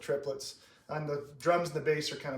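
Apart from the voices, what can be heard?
No everyday noises stand out.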